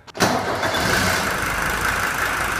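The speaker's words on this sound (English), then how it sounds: "now I'm gonna try to start the car" A Mercedes W123 300D's OM617 diesel engine cranks briefly and catches, then settles into a steady, rough idle close by.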